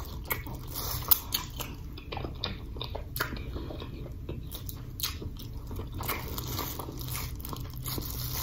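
Close, wet chewing and crunching while eating a spicy seafood boil of snow crab, shrimp, eggs and potatoes in sauce, with repeated bites, cracks of shell and smacking sounds throughout.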